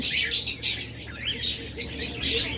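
A pair of pied cockatiels kept for sale in Bangladesh call repeatedly at close range, bright shrill chirps and squawks in quick, uneven bursts with no voices over them.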